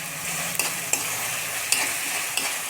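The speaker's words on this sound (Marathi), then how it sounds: "आता याला ना एकत्रच फ्राय करायचं आहे बरं का." Onion, tomato, ginger and garlic frying together on high flame, a constant close sizzle punctuated by four sharp scrapes or taps of a spatula against the pan, no voices present.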